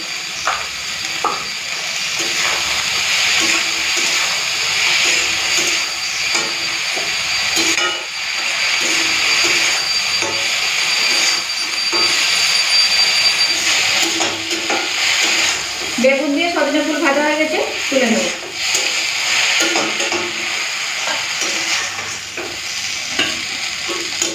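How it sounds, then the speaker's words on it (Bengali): Drumstick (moringa) flowers fry in a little oil with salt and turmeric, giving a steady crackling sizzle with stirring scrapes throughout, close and continuous, and brief clinks of the utensil partway through. "সজনের ফুল চলুন ভালো করে চলে ভেজে নিই"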